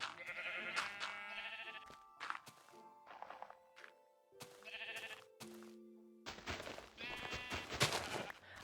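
Sheep in a Minecraft-style block game bleat repeatedly in short nasal calls, mixed with game sound effects and bursts of noise, loud and close.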